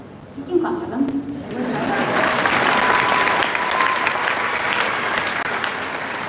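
Audience in a high school gymnasium applauds graduates at a Bath High School commencement, a dense, steady wash of clapping that swells after the first second and holds loud throughout, with voices mixed in.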